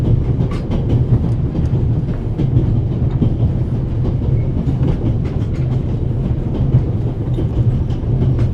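Train rolling on rails in the video game The Raven Remastered, a loud steady rumble with a continuous rhythmic clatter of wheels, close and uninterrupted with no talk.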